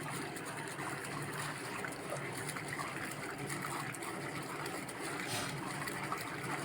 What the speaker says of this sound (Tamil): வேகிறதுக்காக நிறையா தண்ணி ஊற்றுறோம்